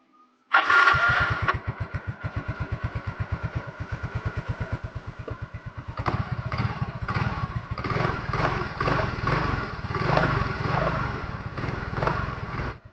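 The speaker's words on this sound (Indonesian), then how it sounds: "Setelah itu, hidupkan mesinnya untuk memastikan jika motor sudah aman dan layak buat dikendarai." Yamaha Mio M3 scooter engine cranked to life after a CVT service, a starter whir followed by a rapid, even putter of the small single-cylinder idling up close, its pitch rising slightly as the idle steadies.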